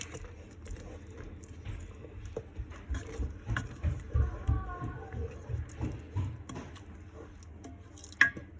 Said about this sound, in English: Gonna give it a good mix.